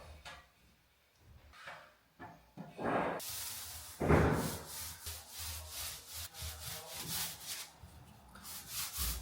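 A paint roller lays a first coat of paint onto a wall during a home renovation. After some scattered knocks, it makes a repeated rolling, rubbing swish in steady back-and-forth strokes, fairly close.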